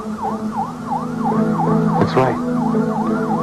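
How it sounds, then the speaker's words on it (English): A wailing emergency siren sweeps steadily up and down, fairly loud and continuous, with a brief burst of other noise partway through and a short spoken line over it. "That siren is the sweet sound of backup on the way."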